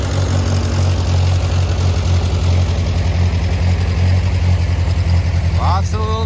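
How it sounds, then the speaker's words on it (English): A heavy tractor engine idles steadily and close by at a county fair, a low rumbling throb that continues without break, with a few short whistling chirps near the end. "Lots of tractors here at this county fair."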